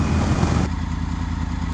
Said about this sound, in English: I have to admit, I like the sound of this engine a lot.